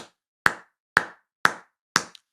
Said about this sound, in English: Slow clap for college football.